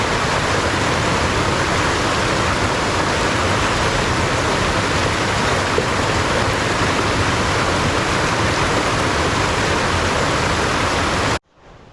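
A creek in Vesterålen, Norway, rushing in a steady, dense roar of flowing water, loud and close and unbroken until it cuts off at the very end.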